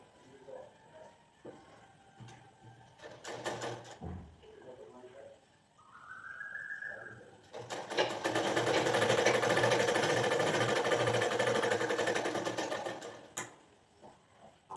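A sewing machine stitches blouse fabric with a fast, loud, steady mechanical whir lasting several seconds, preceded by short bursts and handling noises with a voice in the background.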